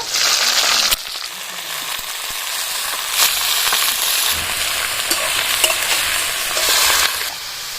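Cut potatoes and eggplant hiss and sizzle in hot oil with spices, a steady close frying crackle broken by stirring scrapes and a few sharp clinks, with no talk.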